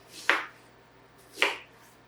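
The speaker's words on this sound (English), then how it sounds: "And we're going to chop them up." Two crisp knife chops through onions on a cutting board, spaced about a second apart while preparing a red sauce, close and fairly quiet with silence between.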